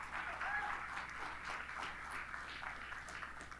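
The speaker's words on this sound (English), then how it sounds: "Give yourselves a round of applause, yes." A crowd at a motivational speaking event claps together in a steady, even wash that carries quietly and slightly distant throughout, with no talk over it.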